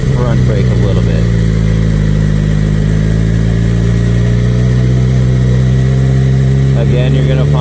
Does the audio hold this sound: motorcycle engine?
yes